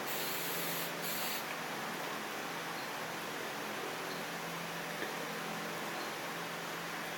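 Hairspray hisses onto hair in a steady, continuous aerosol spray, close and fairly quiet, with no talking.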